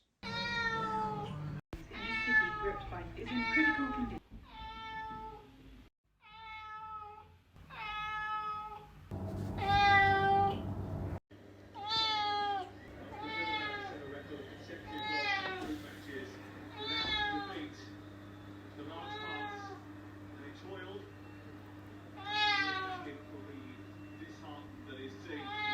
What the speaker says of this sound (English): Now this cat makes a lot of noise.